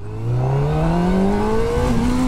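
Honda CB1000R motorcycle engine pulling hard under acceleration while riding, a loud close steady drone rising smoothly in pitch over a couple of seconds without a gear change.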